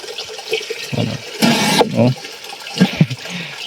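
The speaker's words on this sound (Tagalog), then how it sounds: "Napakalakas po ng tubig parang puputok yung hose" Strong water gushes from a hose into a thick plastic drum, a loud rushing flow that surges and swells in uneven bursts, with some brief voice sounds.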